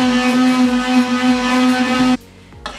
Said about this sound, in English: So I'm going to blend it with a stick blender.